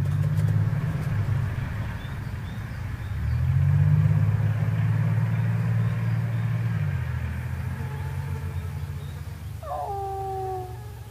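Vehicles idling and rolling near wolf cubs in a forest, a steady low engine drone that swells and fades, with a brief high squeal near the end.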